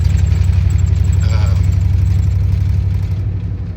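A 1997 Dodge Ram pickup's engine idles steadily up close, a continuous low rumble with a slightly uneven pulse that holds level throughout and eases off a little near the end.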